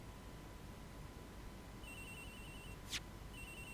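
An electronic telephone ring in the Ace Attorney Investigations game, faint and thin, begins partway through as a repeating high trill with a short sharp burst near the end, set over a quiet, steady background hum.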